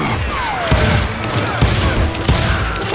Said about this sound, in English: They made up for their lack of skill with a seemingly endless supply of ammo.